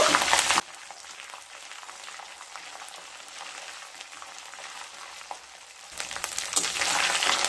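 Garlic and ginger paste fries in oil for a coriander leaf pickle, with loud bursts of sizzling at the start and end and a quieter, steady crackle with stirring in between.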